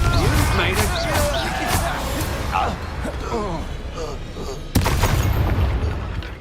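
Expulso and Confringo spell blasts in Hogwarts Legacy: deep booming impacts and a sharp blast partway through, heavy and close, mixed with game effects while a voice speaks over the action.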